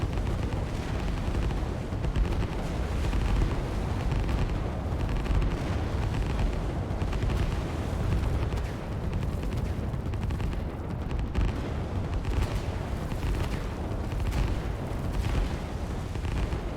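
Artillery pounds entrenched cruisers in the RTS Line War, a dense, continuous barrage of booms and blasts rumbling steadily without a break for the whole stretch.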